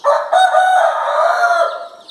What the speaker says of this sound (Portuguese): E o galo não para de cantar.